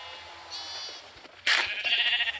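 Sheep bleat in repeated, wavering calls at a football stadium, with one loud bleat midway followed by a sustained cry, close by and clear over light background noise.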